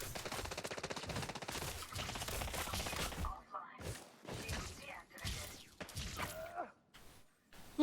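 Pistol fire during on-foot combat in Elite Dangerous: a fast, dense run of sharp shots for about three seconds, then scattered thuds and impacts with gaps of near silence.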